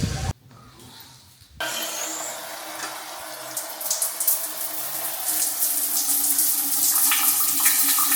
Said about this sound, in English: I just took a quick shower